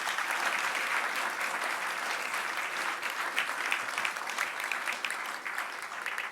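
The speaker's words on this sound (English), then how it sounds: "Round of applause, ladies and gentlemen." Audience applause at an indoor book launch event, dense sustained clapping from a sizeable crowd, fairly loud and even throughout with slight swells and no speech over it.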